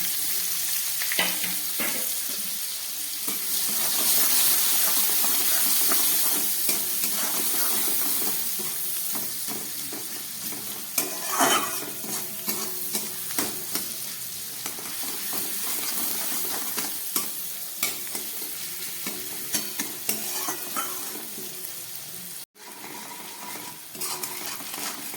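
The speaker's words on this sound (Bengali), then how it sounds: "এই যে দিয়ে দিচ্ছি কেটে রাখা পেঁয়াজটা" Chopped onion frying in oil with garam masala, a steady loud sizzle and crackle with scraping stirs and occasional utensil clinks against the pan, close and continuous.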